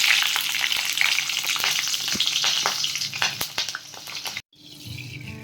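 Mustard seeds and cumin sizzle and crackle loudly in hot oil in a kadhai, a dense steady frying hiss with sharp pops, broken by a brief cut before the sizzle resumes more quietly.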